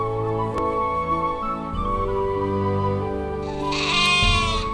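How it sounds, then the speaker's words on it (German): A sheep sound effect from the Catan video game plays a long, wavering bleat over a continuous layer of game music. "Und es gibt ein Schaf."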